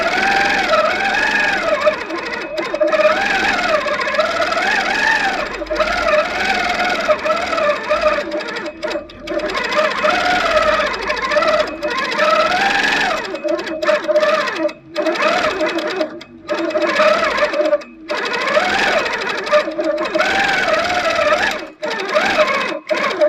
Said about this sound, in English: I'll increase the number of stitches and increase the cruise a little bit, just to sort of play with the different speeds.